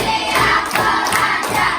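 Classroom of pupils clapping a counted rhythm pattern on a teacher's cue, a busy, dense burst of many hands slapping together close by, with no talk over it.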